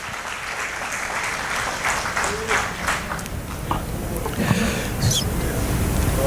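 A church congregation applauds during a sermon at an Assembly of God service, a steady wash of clapping that fills the room, with some voices mixed into the broad, sustained noise.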